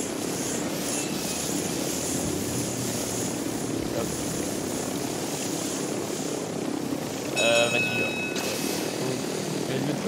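A helicopter in a video game drones steadily and loudly the whole time, a continuous engine and rotor roar under voices chatting.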